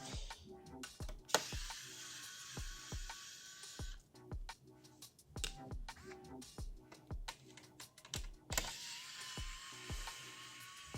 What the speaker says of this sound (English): we still have a screw underneath of both fans that need to be removed.